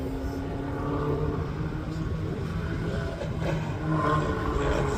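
An Irish-built special race car at a hillclimb, its engine droning steadily and rising slightly as it accelerates, heard from a moderate distance with a broad, rough tone.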